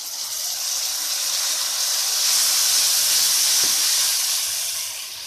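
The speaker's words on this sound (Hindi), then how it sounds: "प्याज हमारा फ्राई हो चुका है। अब इसमें मसाले डालेंगे। टमाटर का पेस्ट डालेंगे इसमें।" Onions frying in a pan with spices and tomato paste for masaledar bhindi, producing a steady hiss and sizzle that swells in the middle and eases off, close up with a few faint stirring knocks.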